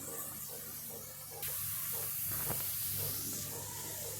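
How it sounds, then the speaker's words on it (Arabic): Spices, seasonings and bay leaves dropped into hot oil, a steady loud hiss of sizzling that jumps up when they hit the oil and continues close and even. "هننزل دلوقتي بالتوابل والبهارات وورق اللوري"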